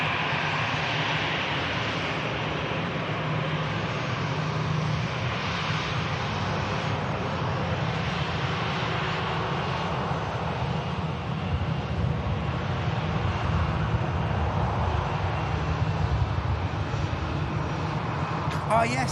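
A Ryanair airliner takes off at Manchester Airport, its jet engines a continuous, broad roar that holds steady and loud throughout, with people talking over it.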